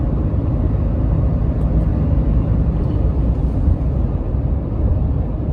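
A Toyota Tacoma towing a small RV cruises near the top of a hill, a steady low engine and road rumble droning on without change, with no clear gear shift standing out.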